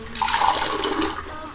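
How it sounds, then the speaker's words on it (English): Water is poured into a bowl of heaped flour, a brief near splashing and gurgling pour lasting just over a second. "Then add some water."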